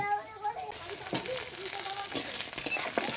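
Spinach with small shrimp frying in a pan sizzles and hisses close by while a spatula stirs it, with a woman's and children's voices talking over the cooking.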